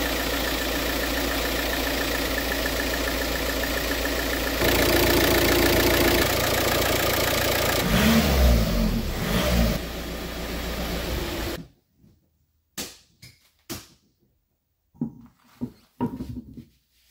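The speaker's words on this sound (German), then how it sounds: "Wie ihr hört, der Motor läuft." An Audi A3 8P 2.0 TDI diesel runs at idle after a timing belt and water pump change, a steady loud close-up clatter for about twelve seconds, then cuts off into quiet with scattered knocks and handling sounds.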